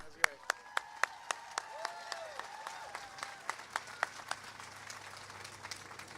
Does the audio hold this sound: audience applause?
yes